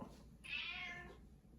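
Hungry cat meowing at home, a single drawn-out meow of about a second, fairly close but soft against a quiet room.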